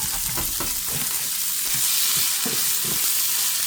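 Bone-in chicken thighs frying in their own rendered fat, a steady close sizzle with intermittent stirring scrapes and clicks throughout.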